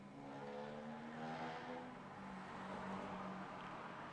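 A little hatchback fitted with a huge oil-can exhaust roars past at night, a raspy, motorcycle-like drone that rises and shifts pitch as it revs, heard faintly from some distance.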